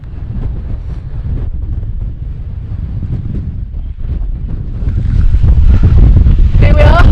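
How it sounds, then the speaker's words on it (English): Heavy wind on open moorland at Stanage Edge roars and buffets against the microphone, a loud low rumble that grows stronger toward the end, with a brief faint voice near the close. "It's windy. It is windy."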